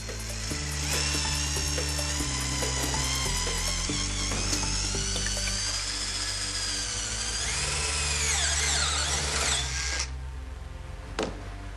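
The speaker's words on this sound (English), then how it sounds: "Then drill a hole 15 mm in diameter" A power drill bores a 15 mm hole into a plastic car phone console, a steady high whine with shifting pitch that bogs down and recovers over several seconds, then cuts off near the end.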